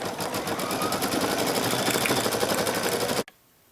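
An embroidery machine stitches flowers onto denim with a rapid, steady mechanical chatter close by, running evenly before cutting off abruptly near the end.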